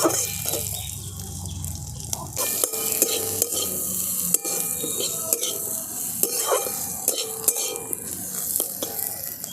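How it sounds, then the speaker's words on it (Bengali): Capsicum pieces and carrot being stir-fried in a pan with no oil, giving a steady sizzle broken by frequent clinks and scrapes of a spatula against the metal, close and fairly loud with no talking. "এবার ক্যাপসিকামটাকেও আমি ভালো করে গাজরের সাথে ভেজে নেব"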